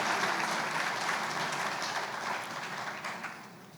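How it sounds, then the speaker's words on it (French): An audience applauds at the opening of a law fair, a dense wash of clapping from many hands that holds steady and then slowly thins out over about four seconds. "Sous vos applaudissements, venez donc."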